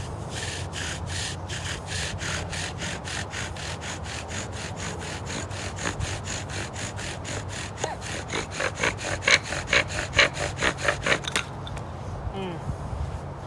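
A wooden bow drill is spun for a friction fire, giving a steady run of rhythmic back-and-forth rasping strokes close up that grow rougher and louder toward the end.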